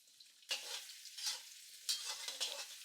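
Onions stir-fried in a wok with garlic and ginger, a soft sizzle punctuated by several scraping stirs of the spatula, fairly quiet with no voices.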